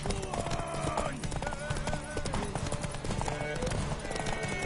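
Rapid clip-clop of galloping horse hooves in a video game, amid busy game sound effects and music, with voices talking over it.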